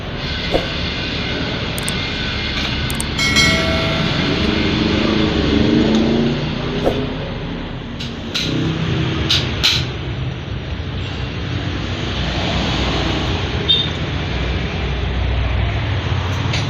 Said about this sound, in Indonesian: ini sebenarnya dinamo nggak rusak ya, hanya RPM nya ditambahin. RPM nya jadi 2800 dari 1400 ya.